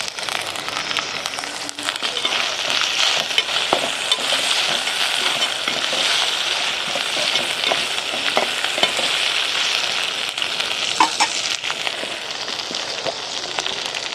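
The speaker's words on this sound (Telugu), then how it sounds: "ఫ్రై అయినసేపు ఒక ఒక నిమిషం మూత పెట్టుకుందాం" Goat tripe (boti) fries in a covered pan, giving a continuous dense sizzle and crackle that holds steady and fairly loud throughout, with no voices.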